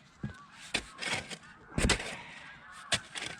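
Geese honking outdoors in a few scattered bursts of calls over a brief stretch, some louder and closer than others, with light background noise between.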